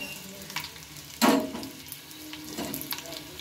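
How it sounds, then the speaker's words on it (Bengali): Black cumin seeds and two dried chillies hitting hot oil left from frying eggs give a steady, close sizzle, with a sharper burst of crackling as they go in and another rise a little later. "এই তেলের মধ্যে আমি দিয়ে নেব অল্প একটু কালো জিরে, 2টো শুকনো লঙ্কা দিয়ে নিলাম"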